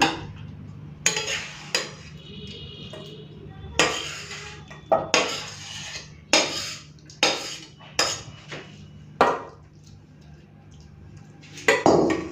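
Mourala fish curry with spring onion and potato being served from a pan into a dish: repeated close clinks and scrapes of a metal spoon against cookware, in irregular bursts, with faint talk in between.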